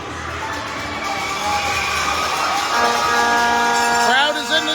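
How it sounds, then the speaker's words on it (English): Crowd cheering at a hockey game in a championship finale, a loud sustained roar of voices and shouts with excited children's cries rising toward the end. "Crowd is into this game."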